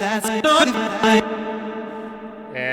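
A melodic chopped vocal line with heavy reverb in short bursts, in a track, then a long reverberant tail ringing out before a brighter new note enters near the end.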